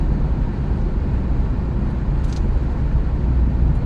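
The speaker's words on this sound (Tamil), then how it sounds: "டிராஃபிக் ஆரம்பிச்சிருச்சு." Steady road traffic on a busy Kuwait City street among tall buildings, a continuous low engine hum and tyre rumble from passing cars, heard from inside a vehicle with no voices.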